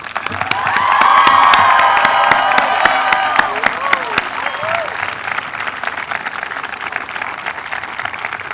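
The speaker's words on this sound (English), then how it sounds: "ask you for a round of applause to thank your teachers and your families for their hard work" Graduation crowd at a college commencement applauds teachers and families, the clapping swelling quickly into loud, sustained applause with scattered cheers and whoops before settling to a steadier patter.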